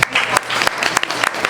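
A live audience at a West Seattle brewery comedy show clapping hands, dense continuous applause with sharp bursts, close and loud.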